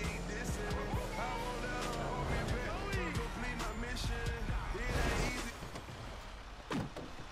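A garbage truck in Grand Theft Auto V rumbles and revs with rising and falling engine tones and some tire noise, while voices talk over it throughout.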